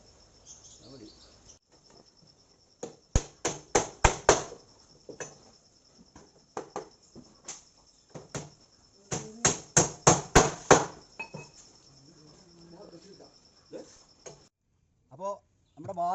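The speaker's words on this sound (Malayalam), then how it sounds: "ഇത് ഈ മരത്തിൽ ആണി അടിച്ച് നിർത്തണം" Nails driven into wooden planks while building a tree house: loud, close hammer blows in quick clusters with pauses between, over a constant high insect drone, with people talking softly at times.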